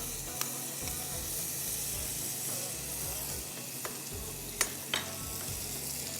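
Liver fries in a pan with garlic ginger paste, giving a dense, steady sizzle with occasional sharp pops and crackles, heard close and alone with no talk.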